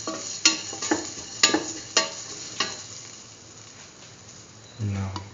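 A spoon stirs a curried egg and mung bean stew in a pan, scraping in a run of sharp clicks and scrapes over a low sizzle, then fading to a quieter bubbling hiss with a brief thicker stir near the end.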